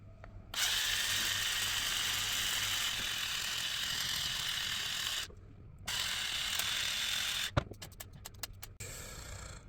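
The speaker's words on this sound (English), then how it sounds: "First we're going to disconnect the old ring from the connection head." An old bayonet ring is unscrewed from a connection head, a loud continuous mechanical ratcheting whir that stops briefly, resumes, then breaks into a series of quick sharp clicks and clacks.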